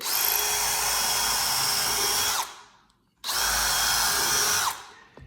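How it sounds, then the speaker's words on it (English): A power drill whines loudly and steadily in two long bursts, stopping briefly between them, close up with no talking. "I'm gonna drill all the way through."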